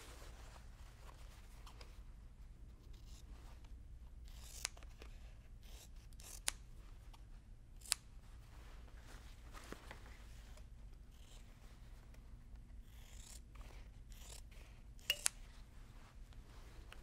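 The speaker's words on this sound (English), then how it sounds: "I use scissors and I cut up and then across about a quarter inch" Scissors cut quilt fabric close by, small quiet snips and rustles scattered over a low steady hum, with a few sharper clicks standing out and no voices.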